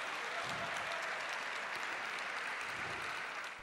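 Sustained applause from a large press audience greeting the pope, dense and steady throughout, fading slightly at the very end.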